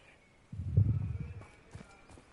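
Horse's hooves in Hogwarts Legacy clip-clop on the ground in a short cluster of thudding steps, moderately close, then fade into a few softer scuffs and clicks.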